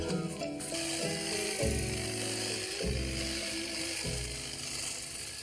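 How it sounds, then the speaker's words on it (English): A hedge trimmer cutting back wormwood hedges in a home garden, its motor running steadily close by with repeated rising and falling surges as the blades bite through the growth. "time to get out the hedge trimmer"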